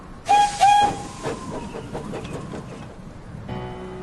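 A steam locomotive whistle gives two loud, shrill blasts, followed by a fading hiss and rhythmic chuffing of the engine.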